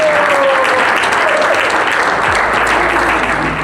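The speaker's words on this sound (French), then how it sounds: "Je dis encore qu'on applaudisse encore Béla." An audience at a community event on autism in Congo applauds warmly, a steady wash of many hands clapping that holds evenly for several seconds with no voices on top.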